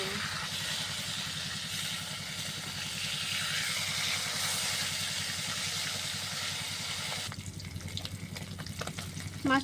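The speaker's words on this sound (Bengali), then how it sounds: "মাছটা লাল করে ভেজে নিয়েছি" Fish frying in hot mustard oil in a pan on a clay stove gives a steady, close sizzle that runs throughout, joined near the end by a few clattering handling noises.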